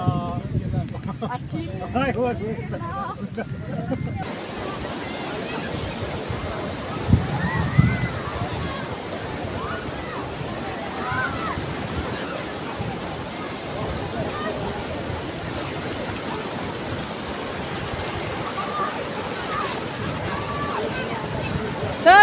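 Sea water at Miramar Beach, Goa, sloshes and splashes continuously with a broad wash of surf, while people talk and shout nearby; a louder splash comes early on.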